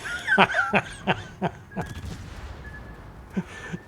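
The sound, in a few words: naval gun salvo of 220mm armour-piercing shells, World of Warships video game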